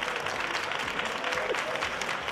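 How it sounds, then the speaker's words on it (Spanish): Sustained studio audience applause fills a television show set, a steady wash of clapping from a crowd at even loudness throughout, with faint voices mixed in underneath. "¡Javi, ese aplauso para nuestro Abad!"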